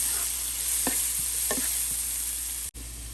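Chopped garlic and onion sizzle in a pan while a utensil stirs them. A steady frying hiss carries a few soft scraping strokes and a brief cutoff near the end, with no voices.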